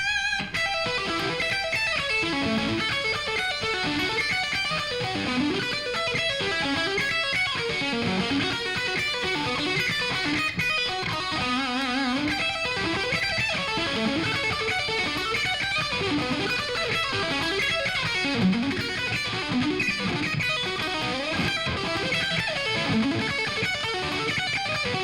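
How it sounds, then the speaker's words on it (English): A fast electric guitar solo with distortion runs in a continuous stream of quick notes, loud and steady throughout, with no talking. "here's a version that's a little bit quicker. Same thing, but I'm going to add a little distortion too."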